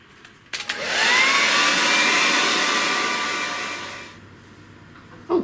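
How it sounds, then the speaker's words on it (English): A hairdryer blows steadily to dry a paint pad during an acrylic painting session, switching on after a brief click, running loud and close for about three seconds, then cutting off. "And to dry it off quickly, what I use is just a hairdryer."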